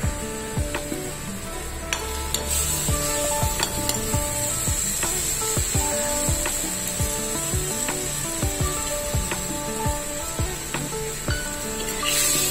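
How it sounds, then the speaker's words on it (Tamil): Prawns are stirred and sautéed in a pan with paste for prawn ragi pasta. A steady sizzle runs throughout, with repeated scraping and clacking from a spatula close by. "நல்லா மிக்ஸ் பண்ணிவிட்டு லைட்டாக வதக்கிக்கிட்டு"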